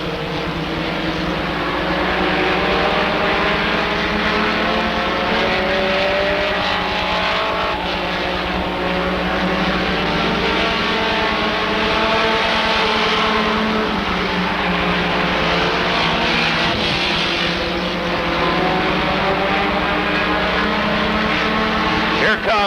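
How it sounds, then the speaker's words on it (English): Stock race cars circle the Rockford Speedway oval, a continuous loud engine roar with rising and falling pitch as cars pass, heard under steady commentary from an announcer. "Art Higby picks the pace back up and begins the challenge for that second spot on the 23 of David Pouch"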